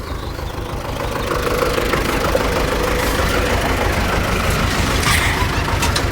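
A farm vehicle's engine runs steadily while driving over to a small plot of hay grass, a continuous low rumble that holds close and fairly loud throughout, with no talking.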